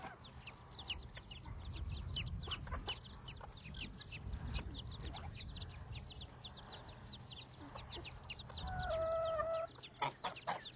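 Chicks and hens cluck and peep together in a farmyard brood with a bantam hen and guinea fowl, a dense, continuous chorus of short overlapping calls that swells louder near the end.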